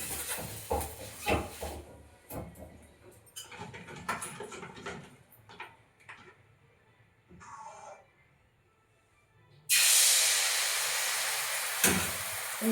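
Oil heats in a wok with a whole eggplant for making pitha: clattering handling noises come first, then a loud, steady hiss of sizzling oil in the final few seconds.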